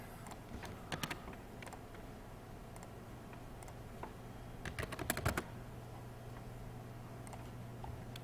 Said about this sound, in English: Sometimes it's just faster to type it in.